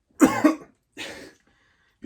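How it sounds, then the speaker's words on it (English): A person coughs after choking on water, two sharp close coughs, the first a harsh double burst and the second softer, followed by quiet. "Just choking on the water."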